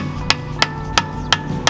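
Five sharp metallic taps of a hammer seating a new dust cap onto the rear hub of a Corsa E VXR, evenly spaced and close, with no talking.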